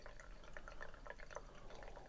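Water pours into the tank of a Bissell CrossWave Cordless Max wet-dry vacuum, a quiet, steady trickle with small splashes and drips over about two seconds.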